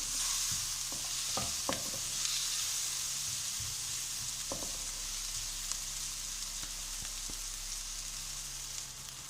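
Steady sizzling of onions frying in a pan, with occasional stirring clicks and scrapes, close and continuous, no talking.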